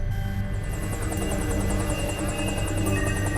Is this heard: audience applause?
no